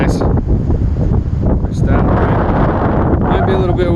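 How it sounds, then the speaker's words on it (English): Strong wind gusts buffet the microphone high on a rocky outcrop above Lake Verna in Rocky Mountain National Park, a loud, rumbling roar that surges and dips continuously. "Might be a little bit windy up here."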